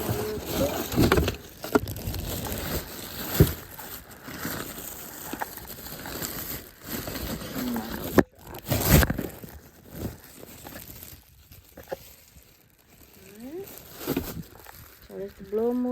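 Packaging crinkles and tears as a replacement car blower motor is unwrapped, with scattered rustling and crunching bursts close to the mic while someone talks over much of it.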